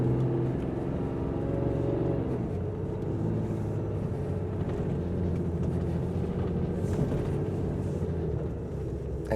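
A four-wheel-drive plow truck with a six-speed Aisin transmission, loaded with sand, labors up a snowy driveway, its engine droning steadily and loudly from inside the cab without a break.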